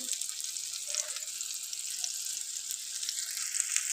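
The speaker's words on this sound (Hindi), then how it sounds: "तो इस तरह से हमने इनकी अब दोनों साइड जो है वो फ्राई कर लेनी है" Chicken shami kababs fry in a pan over moderate heat with a soft, continuous sizzle and small crackles, fairly quiet and steady with no voices.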